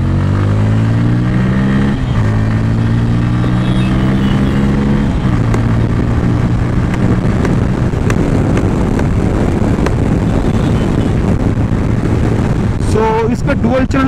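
A 2024 Bajaj Pulsar N160 USD motorcycle accelerates under opened throttle, its steady engine note climbing through a couple of gear steps before heavy wind rush on the microphone swamps it.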